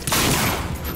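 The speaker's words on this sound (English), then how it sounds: "We are receiving incoming fire from your guns." Guns on a ship fire in a video game, a loud, dense burst of rapid gunfire that fills the moment and then trails off slightly.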